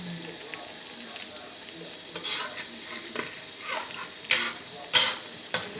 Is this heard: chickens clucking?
no